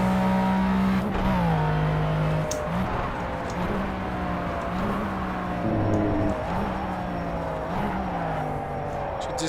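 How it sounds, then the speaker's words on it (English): McLaren F1 race car in Project CARS at Le Mans, its engine roaring loud and continuous as it revs up and shifts through gears, pitch climbing and dropping repeatedly, with no talk over it. "As soon as I floor it, the car wants to spin."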